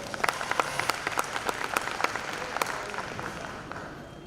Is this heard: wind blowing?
no